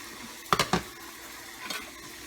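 Butter goes into a sizzling maple red wine demi sauce for a bison tomahawk, a quiet steady sizzle broken by two quick scraping stirs and a softer third later.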